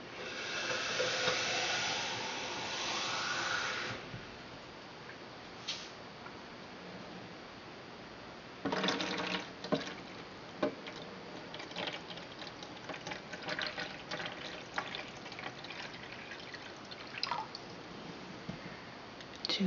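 Water poured from a glass into a vase of water beads, a soft rushing fill for a few seconds followed by scattered faint drips and small clinks, close and quiet.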